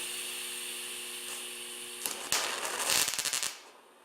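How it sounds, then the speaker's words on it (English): A welder tacks two steel horseshoe sections together: after a steady hum, a burst of crackling, sputtering arc noise lasts about a second and a half, then cuts off. "Now those two sections can be tack welded together."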